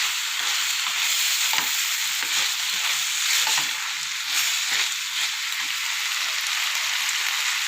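Drumsticks fry in a pan with a continuous close sizzle and crackle, broken now and then by soft stirring scrapes, rising and falling slightly as they cook.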